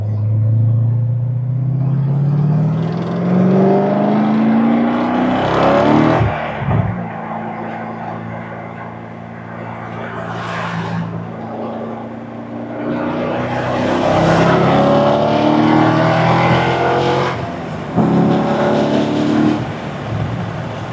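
Chevrolet Corvette C6 Z06 engine revving loudly, with rising tones that drop sharply at gear shifts near six and seventeen seconds, then climb again under steady acceleration.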